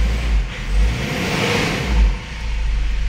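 A 2011 Ford Everest diesel engine revs steadily and smoothly up close, a continuous mid-pitched drone with gentle swells in loudness and no audible knocking.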